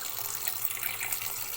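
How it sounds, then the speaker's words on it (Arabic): Cold tap water runs over cauliflower in a kitchen sink, a steady close hiss and splatter that keeps an even level throughout, with no speech. "مية ساقعة من الحنفية عادية خالص"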